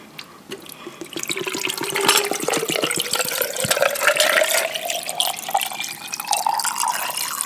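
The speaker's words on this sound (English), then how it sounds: "I'm about to pour my water, y'all." Water poured into a glass, a close, steady trickling stream whose pitch rises gradually as the glass fills.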